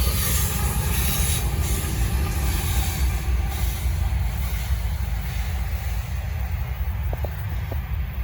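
A Norfolk Southern freight train with a DPU locomotive rolls past on the Charlotte District in Gaffney, South Carolina: a loud, continuous rumble of railcars with rhythmic wheel clatter and brief squeals near the end.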